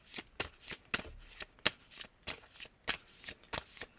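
Hebrew letter tarot cards are shuffled close by in a rapid series of soft riffling bursts, about a dozen quick papery flutters in an even rhythm. No talk.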